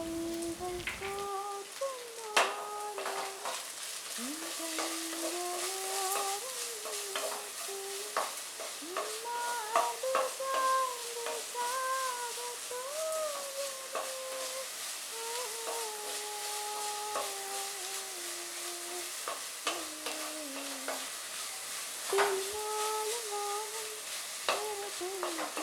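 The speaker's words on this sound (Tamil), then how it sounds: "வெங்காயம் வதங்குறதுக்கு கொஞ்சம் உப்பு ஆட் பண்ணிவிட்டு நல்லா ஃப்ரை பண்ணிக்கிறோம்" Sliced onions with a pinch of salt fry in a pan for a puffed rice and egg stir-fry, giving a continuous close sizzle with scraping stirs and soft music underneath.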